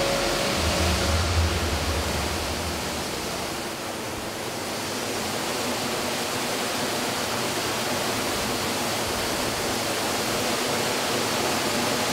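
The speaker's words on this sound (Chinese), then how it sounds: "深夜的瀑布，这里是刚才我所说的地方" Waterfall at night in remote hills, a steady, dense roar of falling water that fills the whole clip at constant loudness, with no voices.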